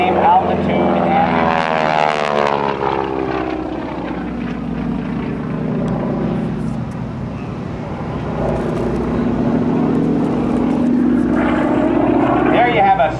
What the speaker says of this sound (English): a 16-point roll in a Texan, a 60-year-old airplane